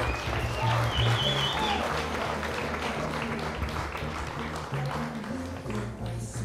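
A crowd applauds the winners at an award ceremony for the Saarepiiga 2011 pageant, with steady clapping throughout under a rhythmic low musical beat that carries on alongside.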